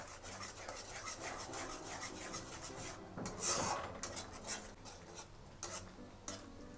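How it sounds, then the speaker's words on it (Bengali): Masala being stirred and sautéed in a pan for chana paneer, giving a steady close scraping and rasping with a soft sizzle underneath and brief louder scrapes, no talking. "এবার ভালো করে আমি কষিয়ে নেব"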